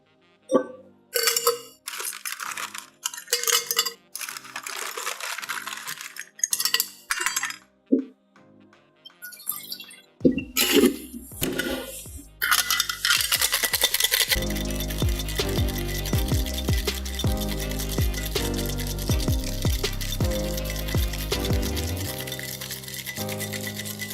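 Ice clinks and rattles in a cocktail shaker for a Casino cocktail, first in sparse scattered knocks, then in a dense, continuous rattle during vigorous shaking.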